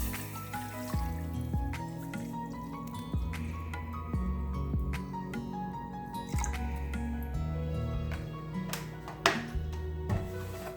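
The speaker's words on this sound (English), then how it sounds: "Let's start with filling this saucepan up with distilled water." Distilled water poured into a saucepan, with a run of close, distinct drips and splashes over a steady trickle, fairly quiet and without talk.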